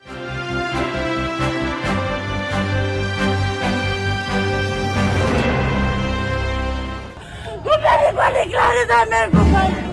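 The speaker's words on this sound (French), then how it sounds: "De pleurs, des cris, des émotions de toutes sortes." Crowd at a farewell gathering in a Goma stadium, crying and shouting with strong emotion, loud yells and wails rising over dense harmonic music early on, then ragged bursts of voices toward the end.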